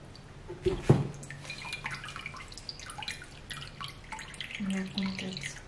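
Water draining and dripping out of a freshly watered Alocasia plant pot indoors, with a sharp splash near the start followed by scattered small drips, while a person talks quietly nearby.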